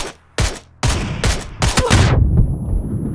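Gunfire from the video game PUBG: several sharp, loud shots in quick succession, with a short gap after the first and then a tight cluster, ending in a rumbling tail.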